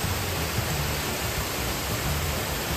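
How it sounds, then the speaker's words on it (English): A resort waterfall pours with a constant, dense rushing roar, close and loud, with no voices over it. "Now here's a better view of that waterfall."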